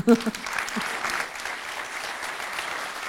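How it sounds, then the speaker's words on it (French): Audience applause for round-table panel speakers at a French conference, a steady wash of clapping filling the room after a brief sound at the start, moderately loud and continuous throughout. "On peut les applaudir."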